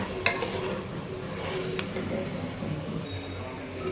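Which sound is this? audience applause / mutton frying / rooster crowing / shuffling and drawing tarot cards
mutton frying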